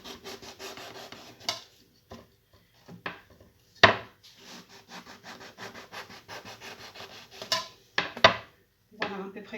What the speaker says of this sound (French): Et on va couper en tranches un peu épaisses.